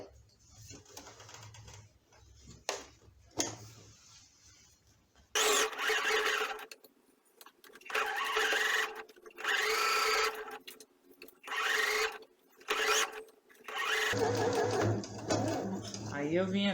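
Sewing machine stitching around the seam of a handmade fabric baby elephant, running in several bursts of steady motor hum, most of them a few seconds long, with a voice talking between and over the runs.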